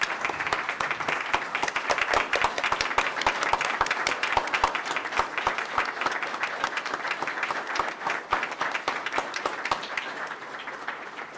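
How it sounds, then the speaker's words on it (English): An audience at a professional council meeting gives a sustained round of applause, dense steady clapping from many hands filling the room at full strength throughout with no talk over it. "Let's give them one more round of applause."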